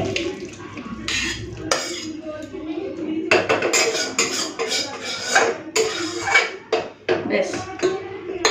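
Cooked prawn curry with pumpkin, potato and brinjal being tipped out of a pan, with close, busy metal utensil scrapes and clatters and some liquid sloshing, fairly loud and continuous.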